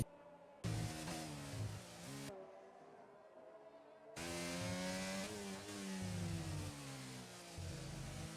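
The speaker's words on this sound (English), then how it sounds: "let's enjoy the Alpine engines as this will be a sound effects lap on board Kong" An Alpine racing car engine in a racing video game sounds onboard through a lap, its tone rising and falling through gear changes, with a short drop to quieter running before loud acceleration resumes.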